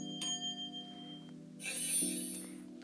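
Magic swish sound effect for a hand movement, a sparkling, shimmering whoosh that swells midway and fades, following soft sustained bell-like tones, fairly quiet and with no speech.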